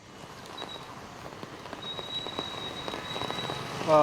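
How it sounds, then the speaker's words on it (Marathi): Heavy continuous rain falls in Mumbai, a steady dense patter on surfaces that builds slightly over the span, with a faint tone and a brief sound at the end. "काल रात्रीपासूनच मुंबईत आहे ते संततधार पावसाची सुरू आहे।"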